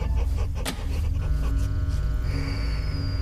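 A dog in a horror video game pants heavily and snorts up close, harsh breathy rhythm filling the moment without any clear barks.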